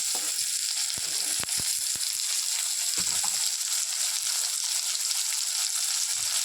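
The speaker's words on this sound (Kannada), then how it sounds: "ಇದು ಒಂದು ಫ್ಯೂ ಮಿನಿಟ್ಸ್ ಫ್ರೈ ಆಗಬೇಕು. ಇವಾಗ ಆನಿಯನ್ ಬೆಂದಿದೆ" Onions hiss loudly and evenly as they fry in a pan, a dense continuous sizzle up close, with a few soft knocks and scrapes scattered through the first half.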